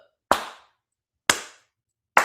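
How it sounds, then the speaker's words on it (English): Three single hand claps, each sharp and loud with a short ringing tail, spaced about a second apart in a quiet room. "Then Junior Boy started clapping."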